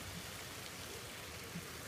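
Hard rain falls outdoors over foggy hills near a paper mill, making a dense, even hiss that stays steady and unbroken, with no talking.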